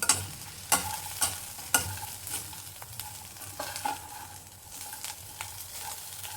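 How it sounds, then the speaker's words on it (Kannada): Garlic cloves frying in a pan while ridge gourd chutney is cooked, a low continuous sizzle broken by sharp scraping knocks of a spoon stirring, loudest in the first two seconds, close by with no talking. "ಈಗ ಬೆಳ್ಳುಳ್ಳಿ ಹಾಕೋದು"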